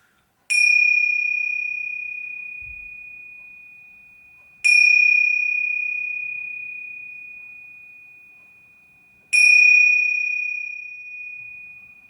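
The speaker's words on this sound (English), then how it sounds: "we're going to do 3 little taps of the bell" A small bell struck three times at slow, even intervals, each clear ringing tap sustaining and fading gradually before the next, close and alone in a quiet room.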